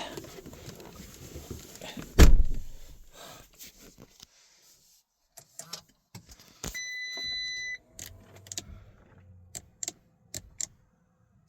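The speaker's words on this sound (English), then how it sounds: "So now I'm going to start the vehicle." An Audi Q7 with a 48V charging fault starts up: a sharp cranking burst catches, followed by quieter clicks, ticks and relay sounds as the car settles, with no talk.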